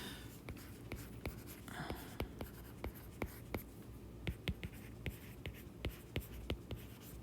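Stylus tapping and scratching across a tablet screen in a series of sharp, quiet clicks at an uneven rhythm, close by and alone.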